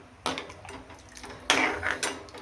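A metal lid is set onto a pot of bottle gourd curry, giving a couple of clanking, rattling knocks with a ringing metallic tone, close and fairly quiet.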